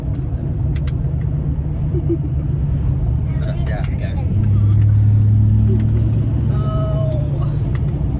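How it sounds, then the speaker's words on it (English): A loud truck engine rumbles steadily throughout, swelling deeper partway through, while people talk over it up close. "your truck is so loud."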